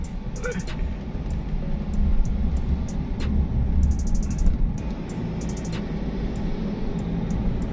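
Heavy road traffic on EDSA during a ride, a dense continuous rumble of engines with brief higher clicks and beeps scattered through, while a voice speaks over it.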